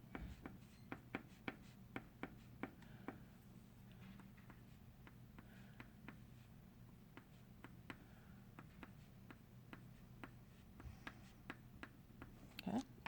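Pencil scratching and scraping across paper while shading a dragonfly wing gray, a soft steady rasp broken by faint, irregular taps, close and quiet with no talk.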